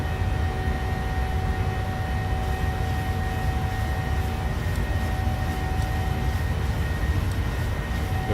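Boeing 737 jet engines at climb power in Microsoft Flight Simulator, a loud, unbroken cabin roar with a steady whine, constant throughout with no speech.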